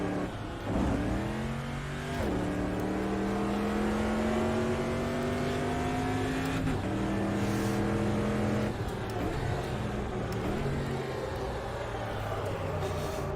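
A Super Truck races in the Automobilista sim, its engine droning steadily and loud throughout, with revs climbing in long pulls and dropping at gear changes.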